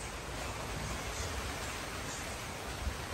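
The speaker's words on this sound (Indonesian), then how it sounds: "Sekarang hujan lagi," Steady, dense rain falling and rushing in the open alongside gusting wind, a constant broadband hiss at moderate level with no talking.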